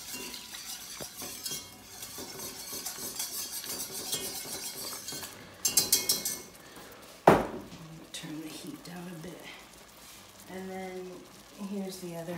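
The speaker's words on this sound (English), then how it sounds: "So, I'm whisking it in a little bit at a time." Liquid whisked a little at a time into a warm mac and cheese sauce in a pot, rhythmic metal-on-pan scraping and clinks, with a sharp clank and a person talking over parts of it.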